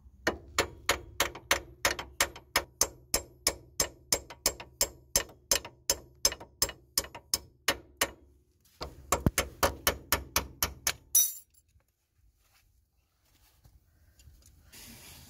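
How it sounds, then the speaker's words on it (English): A bolt is hammered out of the lower ball joint on a Nissan Note during a lower suspension control arm replacement. Rapid, evenly spaced metallic blows ring out close up, stop briefly, resume for another burst, then fall quiet. "Just gonna drive this bolt out."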